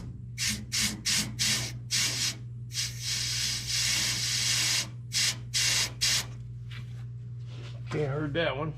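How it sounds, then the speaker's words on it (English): Air is blown back through a fuel pump hose in short forceful puffs, a rapid series of hissy bursts followed by a longer blow, with a low steady hum underneath and a voice briefly at the end. "I'm just going to blow back through that hose just to make sure there's no obstruction"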